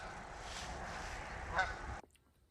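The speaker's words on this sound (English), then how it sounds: "10 minutes later, I start hearing those geese." Geese honk steadily from a flock flying over a pond during an early-season hunt, a continuous layered chorus that cuts off abruptly near the end.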